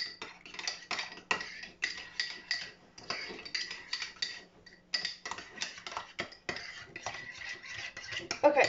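A spoon or fork stirs lemon juice in a bowl, making rapid, rhythmic clinking and scraping against the dish, close and fairly quiet, in bursts with short pauses.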